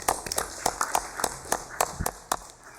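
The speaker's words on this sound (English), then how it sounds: "Can we, Talton Jack, can we give him a round of applause?" Scattered, sparse clapping in a legislative session chamber, a handful of distinct claps at uneven intervals, fairly close and moderate in level, with no one speaking.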